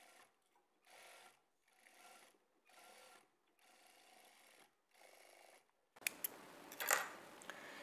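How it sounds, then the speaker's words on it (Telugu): A sewing machine stitches a shape belt onto a blouse in short repeated bursts of rapid whirring with brief pauses, then a louder clattering stretch at the end. "ఇప్పుడు ఈ షేప్ బెల్ట్ని ఇలా ఫోల్డ్ చేసుకొని ఇంకొక స్టిచ్ వేసుకోవాలి"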